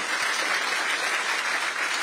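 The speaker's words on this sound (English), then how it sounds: "Let's give Grace a round of applause" Audience applause for Grace, a 10-year-old girl, fills the whole stretch as a steady, dense wash of clapping at moderate volume with no talk over it.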